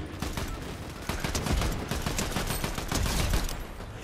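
Rapid bursts of assault rifle gunfire in a multiplayer shooter video game, sustained and fairly loud, with repeated overlapping shots and no talk over them.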